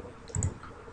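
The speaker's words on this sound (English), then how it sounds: "So just clicking on record" A single computer mouse click on a record button, a short soft tap standing alone against quiet room noise.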